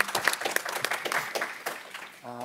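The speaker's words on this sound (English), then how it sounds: "how about a round of applause for these guys?" An audience at an education conference session on microschools gives a short round of applause, a dense burst of clapping that fades within a couple of seconds before a voice returns.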